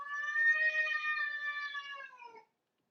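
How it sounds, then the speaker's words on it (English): An angry cat gives a single drawn-out meow, loud and close, holding steady for about two seconds before trailing off into silence. "Very angry kitty."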